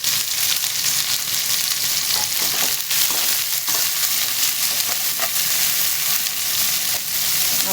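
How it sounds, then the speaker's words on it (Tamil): Chopped onions and curry leaves crackle and sizzle in hot oil in a pan, a close, continuous frying hiss with stirring clatter while making semiya kichadi. "கருவேப்பிலை போட்டோன்னா ஒரு கை வெங்காயம் போட்டுக்கணும்."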